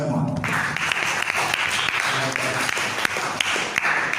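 Classroom-style applause from a group of teachers or students during a poetry lesson, scattered claps over a steady wash of clapping, with voices mixed in under it.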